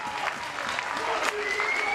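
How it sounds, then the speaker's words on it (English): Applause from the crowd at a boxing undercard press conference, a steady wash of clapping at moderate level while a voice speaks over it. "have a big round of applause for all 20 fighters on stage today"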